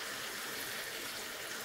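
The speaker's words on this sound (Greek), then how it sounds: "Προσθέτουμε λίγο νερό," Water pours steadily into a cooking pot of seasoned food simmering on the stove, a continuous close gushing splash with no pauses.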